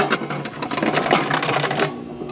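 A solar-powered Precious Plastic shredder grinds a plastic bottle, a dense rattling, crunching mechanical churn that runs steadily up close before easing off near the end.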